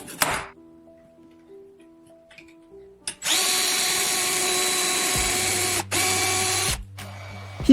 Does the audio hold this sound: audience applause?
no